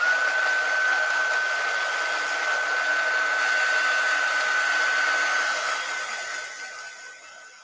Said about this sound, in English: I'm going to heat set the ink here before we color.